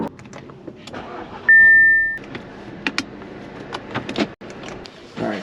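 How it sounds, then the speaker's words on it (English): A car engine starts and runs near a Honda Clarity while cars are moved for a photo, with door and key sounds, a brief tone and intermittent clunks around it; no talk is heard. "we're gonna quickly move the cars over to there"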